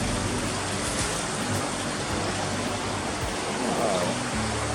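River water runs steadily at a spot in Sicily where laundry was once washed. The flow makes a continuous broadband rush, moderately loud and close, with no clear voices over it.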